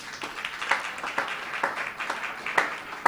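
A church congregation in Bonaire claps together in a steady, moderately loud burst of applause, individual hand claps distinct within a small crowd.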